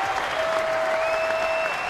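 A baseball crowd in Boston, Texas visiting, stands and cheers in a steady, dense roar of applause and shouting that holds at full loudness without a break.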